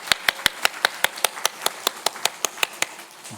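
Rhythmic unison clapping from a church congregation during a Sunday morning service, about seventeen sharp, evenly spaced claps ringing out close and clear with no voices over them.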